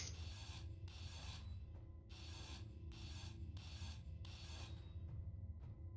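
A grinder in a video game grinds down a block, sounding as a harsh raspy whir in four or five repeated bursts with short gaps, over a steady low background hum.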